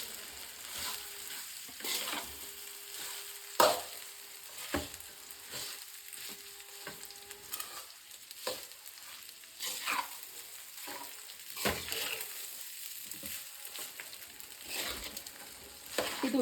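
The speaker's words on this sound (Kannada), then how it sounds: "ಚೆನ್ನಾಗಿ ಒಂಚೂರು ಮಿಕ್ಸ್ ಮಾಡ್ಕೊಳ್ಳೋಣ." A spoon stirs a tamarind chitranna mixture with chilli powder in a frying pan, giving irregular scraping clatters and soft sizzling over about sixteen seconds, close and moderately loud, with no talk.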